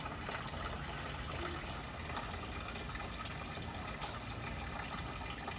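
Old coolant water pours steadily from a car radiator being drained and flushed during maintenance, a continuous close splashing gush with no pauses.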